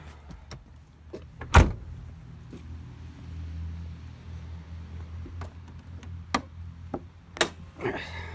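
Hood of a 1999 Chevy Silverado pickup truck being opened: one sharp, loud close thunk early on, then a series of lighter clicks and taps from the latch and panel over a low steady background hum.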